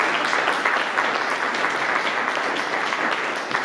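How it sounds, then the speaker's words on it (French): Steady applause from an audience at a film presentation at the Institut Français, dense and sustained clapping throughout with no pauses. "nous donnerons aussi des applaudissements"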